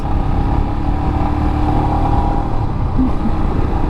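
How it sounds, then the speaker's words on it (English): A Royal Enfield Himalayan motorcycle exhaust, fitted with a booster plug and AIS delete, idles and revs with a deep, steady rumble, close and continuous throughout. "Listen how different that exhaust sounds."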